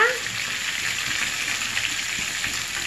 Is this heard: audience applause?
no